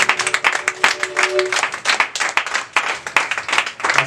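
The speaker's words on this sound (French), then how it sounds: "On acclame très fort le Seigneur." A church congregation claps loudly in praise of the Lord, a close, dense burst of many hands with some shouts mixed in, continuing steadily the whole time.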